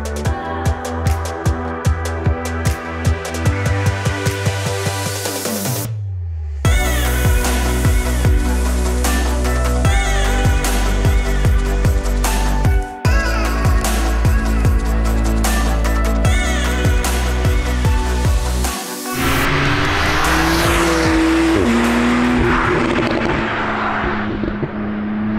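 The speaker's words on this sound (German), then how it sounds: "Macht der Auspuff." A Porsche 911 Carrera S (991.2) with PDK gearbox roars and revs on the road, its exhaust giving sharp crackles and pops between throttle bursts and a rising acceleration near the end.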